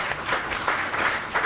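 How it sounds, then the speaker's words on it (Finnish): A small round of applause from a group at a Finnish workshop session on child-friendly municipalities, brief steady clapping at moderate level, close by. "annetaanpas lämpärille pienet aplodit tässä."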